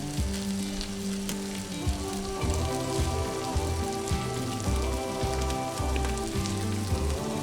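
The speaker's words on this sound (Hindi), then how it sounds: "इसे हम 1 से 2 मिनट हाई फ्लेम पे फ्राई करेंगे।" Boiled rice frying in a pan over a high flame for Chinese masala fried rice, giving a steady close crackling sizzle with rhythmic scraping and stirring knocks throughout, no talking.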